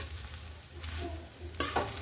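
Mixed vegetables and rice are stirred and fried together in a pan, a soft, low sizzle with a sharper utensil scrape and clatter near the end, heard alone.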